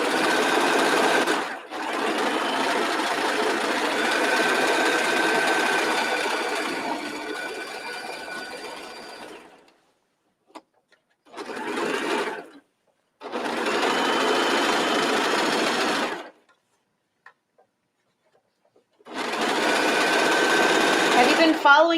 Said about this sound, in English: might as well just serge all the way around